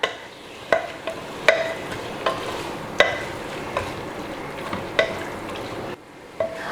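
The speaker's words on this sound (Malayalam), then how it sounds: "നന്നായിട്ട് മിക്സ് ചെയ്ത് കൊടുക്കുക." Spiced beef for vindaloo mixed in a pan, a spoon knocking the pan in sharp, spaced strikes every second or so over a low sizzle, close and without speech.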